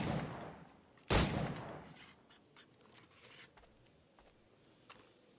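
A single sharp gunshot cracks out in the Assassin's Creed Black Flag video game, fading into a soft ambient bed with faint scattered clicks.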